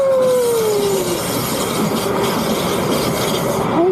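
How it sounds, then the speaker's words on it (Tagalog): A train rumbles past near a riverside walkway, a steady broadband roll with a long squealing tone falling at the start and a brief squeal near the end, heard up close and alone. "Yun ang train."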